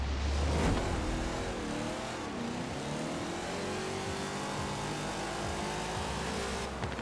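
A car in Forza Horizon 4 on a wheelspin drag launch, held at full throttle, screams with a loud sustained engine note whose pitch sweeps and climbs through the gears, alone and continuous.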